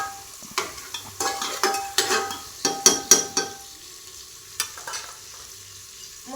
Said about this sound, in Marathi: शेंगदाणे टाकून परत हलवून घ्यायचे